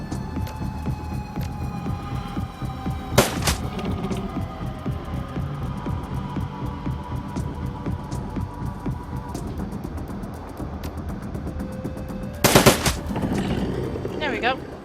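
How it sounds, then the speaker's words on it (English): Gunfire in a video game: two sharp bursts stand out, near the start and near the end, over a steady low engine-like hum and rumble, fairly loud. "Yes, we can actually fire a gun at them."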